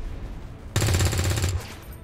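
A soldier in XCOM 2 (Long War of the Chosen) fires a weapon: a loud, dense burst of gunfire lasting just under a second, rising abruptly out of quiet background and trailing off into a short reverberant tail.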